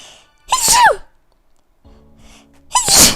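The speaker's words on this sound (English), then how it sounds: "That sneeze came back with a vengeance." A person sneezes twice, each a sharp, loud burst with a rising voiced catch, separated by a quiet pause with faint background noise.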